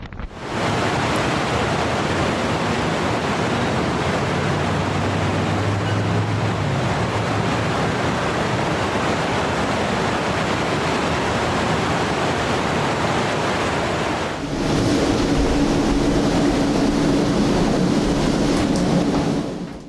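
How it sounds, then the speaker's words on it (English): Enormous typhoon waves driven by Typhoon Fenghuang crash ashore in the Philippines, a loud, dense roar of surf mixed with gusting wind noise on the microphone, steady throughout with a brief lull before surging again. "Typhoon Fenghuang sent enormous waves crashing into the Philippines"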